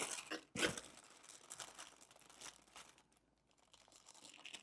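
A supermarket pastrami package being opened up close, quiet plastic crinkling and tearing with a sharp rip early on, then softer rustling that fades toward the end.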